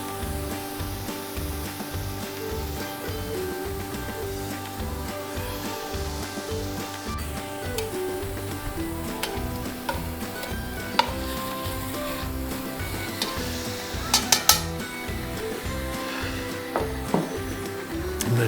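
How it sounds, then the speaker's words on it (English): Meat sears in a Dutch oven, a continuous close sizzle and crackle with occasional sharp pops and clinks of a utensil against the pot, no talking. "So we sear this and it starts the browning process."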